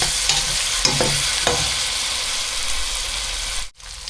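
Giant eggplant stir-frying with meat and oyster sauce in a hot pan, producing a loud continuous sizzle with a few spatula scrapes early on, close up and without speech.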